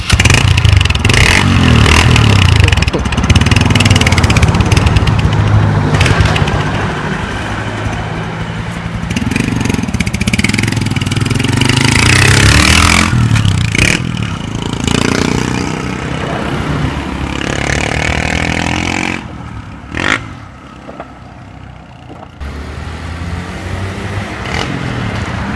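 A motorcycle engine, loud and close, revs and stumbles with misfires and uneven surges, then drops and briefly cuts out before running again, with some clattering mechanical noise.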